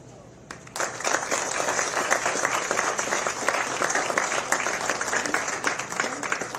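Sustained applause from a sizable golf tournament audience at Pinehurst No. 2, a thick, steady wash of clapping that starts abruptly and stays loud throughout.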